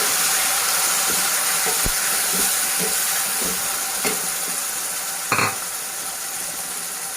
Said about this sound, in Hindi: फिर इसके बाद हम इसको इसमें थोड़ा सा फ्राई करेंगे।